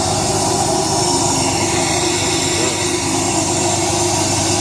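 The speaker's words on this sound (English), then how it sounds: "Been idling here for like 15 minutes with the exhaust brake on." A diesel truck engine with rebuilt common rail injectors idles with the exhaust brake on, a loud, steady, droning rumble that stays constant and close with no talk over it.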